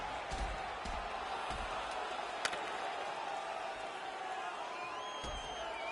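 Hockey crowd in the NHL 2016 video game, a steady arena roar of cheering and whoops with a brief sharp slam midway, continuous and fairly distant under the broadcast ambience.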